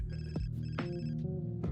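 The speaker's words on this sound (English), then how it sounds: "Who is ringing me?" In The Sims video game, a phone rings with a bright electronic ringtone: a few clear repeating tonal bursts heard close and alone, with no talk.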